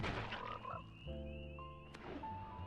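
Cartoonish frog croak effect played for a Cyclic Frog card in a Brawl-style digital card game, a short warbling croak with tonal musical game sounds layered around it, no talking.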